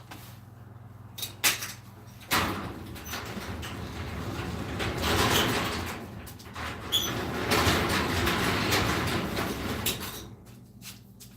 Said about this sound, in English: Maybe if I close the garage door